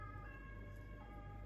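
A police siren passes outside a home kitchen, heard faintly from a distance as a steady tonal wail over low traffic rumble.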